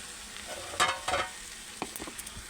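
Food is stirred and fried in a pan, giving a steady sizzle broken by a few scraping strokes and soft knocks, close by and with no talking.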